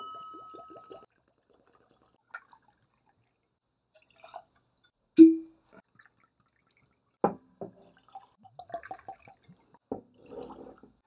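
Pappy Van Winkle 12-year bourbon trickles from small sample bottles into glasses, heard as sparse drips, brief splashes and light clinks separated by quiet gaps.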